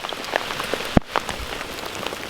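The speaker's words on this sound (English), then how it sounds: "pouring down with rain" Heavy rain pours onto a lake at a carp fishery, a dense, steady hiss of drops hitting water and surfaces nearby, with a few louder close splatters and no talking.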